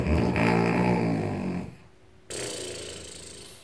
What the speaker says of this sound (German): hört ihr es schnarchen?